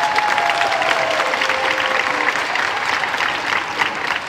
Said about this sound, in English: them one more round of applause